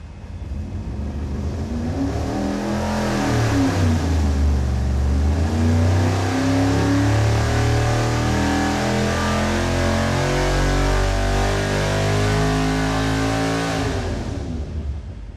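A big-block V8 (rat motor) running a full dyno pull on an engine dynamometer, loud, sustained and close, with revs climbing steadily over about fifteen seconds before cutting off at the end.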